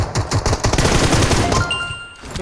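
Rapid bursts of automatic gunfire in PUBG Mobile, loud and close, rattling in quick succession before cutting off into a brief ringing tail.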